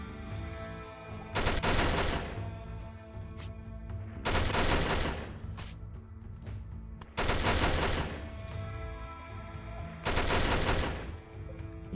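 Four loud bursts of rapid automatic gunfire from the video game Rimworld, each lasting about a second, separated by short pauses with a faint background hum.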